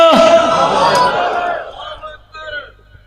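A crowd at an Islamic religious gathering roars back in unison to the Nara-e-Takbeer call, a loud massed shout that fades into scattered voices and talk.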